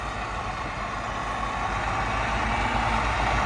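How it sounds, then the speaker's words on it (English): A 2009 Volvo VNL truck engine runs steadily with a loud, even diesel rumble and broadband drone, close up and alone with no talk. "You can hear the engine strong."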